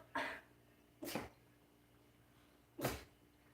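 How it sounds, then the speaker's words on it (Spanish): Three sharp sneezes or sneeze-like bursts, each short and close, spaced across a quiet kitchen background, the last one strongest, with no talking in between. "voy a lavar las manos porque estornudé"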